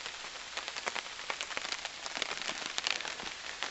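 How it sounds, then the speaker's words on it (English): Rain patters steadily on a camping tent, with dense irregular drops tapping close by and no voices. "But now it's raining."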